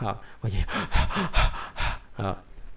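A voice imitates the breathless gasping of a strained call to prayer, a run of short, heavy, panting breaths in quick succession, close and fairly loud.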